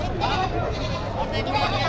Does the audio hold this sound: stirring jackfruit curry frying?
no